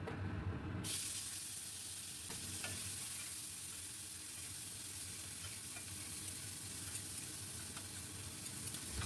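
Chopped tomato hits hot oil already holding whole cumin, a dried red chilli and a bay leaf, giving a loud, steady sizzle that fills the whole stretch after a brief quiet start, with occasional stirring scrapes in a Bengali vegetarian potol dish.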